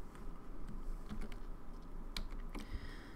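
Dense computer keyboard typing, a steady patter of close key clicks with a few sharper taps, as a stock ticker symbol is entered for a mutual fund trade.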